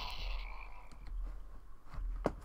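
A frog croaks in a swamp in the Dungeon Siege video game, a few short throaty calls over a low, steady ambient drone, with no talking.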